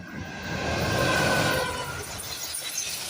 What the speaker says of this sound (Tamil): பணி முடிந்து ரயிலும் வந்தது